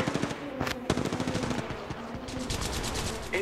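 Rapid automatic gunfire in the mobile battle royale game Apex Legends Mobile, dense close bursts of rattling shots with brief gaps, loud and continuous through the moment.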